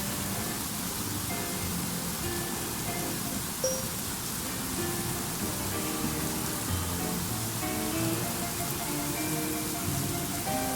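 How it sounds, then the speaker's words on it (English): Heavy rain falls steadily outside a porch, a dense, even hiss of drops on surfaces that holds at a constant level throughout, with no voices over it. "Starting to rain hard now."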